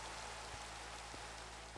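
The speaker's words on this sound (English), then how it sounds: "Damn rain." Steady rain falling in a video game world, a constant even hiss with faint drip-like ticks, quiet and unbroken throughout.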